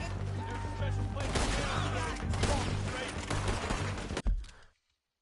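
Gunfire in the Red Dead Redemption 2 video game, a rapid, dense volley of loud shots and crashes lasting several seconds, then cutting off abruptly into silence.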